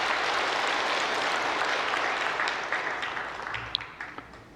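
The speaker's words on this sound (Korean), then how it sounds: "감사 박수 드리겠습니다" A church congregation at a Sunday worship service claps together in a full, dense burst of applause that gradually thins out, ending with a few scattered last claps.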